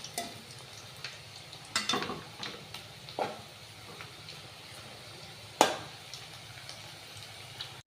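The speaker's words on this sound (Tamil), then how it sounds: "இப்படியே நம்ம எல்லாத்தையும் பொரிச்சு எடுத்துக்கலாம்." Plantain pieces fry in hot oil for a spiced plantain fry, giving a soft steady sizzle with a few sharper crackles and pops scattered through, close by and with no talking.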